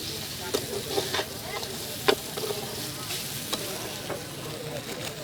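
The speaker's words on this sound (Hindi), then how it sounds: "ये हल्का हल्का मीट भुन गया है, इसमें हम हल्का नमक देंगे तो आज पानी छोड़ेगी।" Smoked pork meat dry-frying in a pan gives a continuous sizzle and hiss, broken by the sharp scrapes and clicks of stirring at irregular intervals, heard close up.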